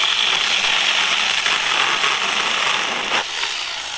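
A TomyVic 6-inch mini chainsaw cuts through tree branches with a continuous, close, buzzing whine that holds steady before easing slightly near the end.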